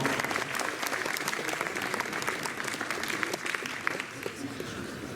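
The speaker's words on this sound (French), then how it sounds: "On peut les applaudir" A seminar audience applauds the athletes who volunteered for a running-technique demonstration, a softer, somewhat distant wash of clapping that holds steady throughout, with a faint murmur of voices underneath.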